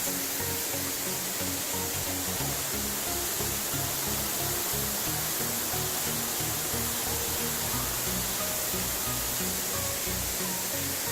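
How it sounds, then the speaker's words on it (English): Steady, dense rushing roar of the Lower Leura Cascades waterfall in the Blue Mountains, heard from a high ledge above, continuous and even throughout with no voices. "Waterfall, Leura Cascades,"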